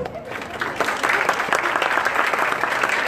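Crowd applauding at a youth apprentice certificate ceremony, steady clapping from many people in an indoor hall that swells and holds.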